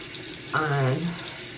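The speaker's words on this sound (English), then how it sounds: "I'm gonna add some water" Bathroom sink tap running briefly while washing the face during a skincare routine, a short close splash of water lasting about half a second amid quiet.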